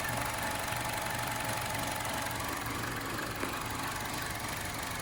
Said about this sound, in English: I'm gonna let it idle. I'm gonna let it cool.